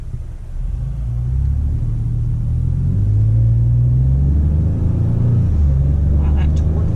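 A 2019 Ford Expedition engine, in sport mode with 4 Auto engaged, pulls hard as a deep, loud rumble that climbs steadily in pitch, dips briefly and rises again.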